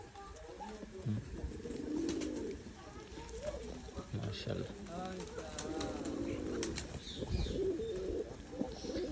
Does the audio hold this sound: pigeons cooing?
yes